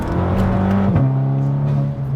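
Volkswagen Polo GTI hot hatch with an aftermarket back box, its engine droning loudly from inside, the pitch dropping sharply at a gear shift and then holding steady.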